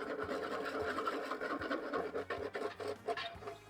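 A whisk scrapes and stirs steadily in a pot as oil is slowly added to a seafood gumbo roux, a faint, close rhythmic rubbing with light metallic taps and no talking.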